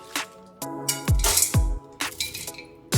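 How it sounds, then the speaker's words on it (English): Washed dry beans tipped into a cooking pot, bursts of clattering, clinking impacts as the hard beans rattle against the pot, arriving in several distinct pours with short gaps. "Wash my beans and add into the pot."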